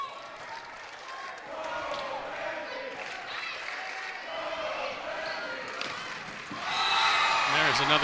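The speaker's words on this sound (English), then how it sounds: "That always elicits a big reaction from the crowd." A high school volleyball crowd in a gym roars and cheers after a kill, swelling loudly near the end over ongoing arena noise, with a commentator talking throughout.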